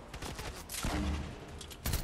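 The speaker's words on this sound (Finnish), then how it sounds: "Tosiaan siinä on Gunnari ampumaan tällä hetkellä." Rapid gunfire from a weapon in the Fortnite video game, a dense burst of shots followed by a brief pause and another short volley, heard without talk.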